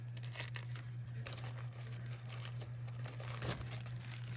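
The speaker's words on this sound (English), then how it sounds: "You're going to just gently peel it apart like this." Two-ply paper napkin being gently peeled apart by hand for a fall decor craft, with soft, close crinkling and light tearing rustles over a low steady hum.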